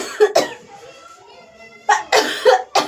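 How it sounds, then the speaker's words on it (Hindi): Someone narrating a Ramayan story coughs in a few sharp, close bursts, two at the start and a cluster near the end, separated by a quieter stretch of low background noise. "खांसी उठी आई"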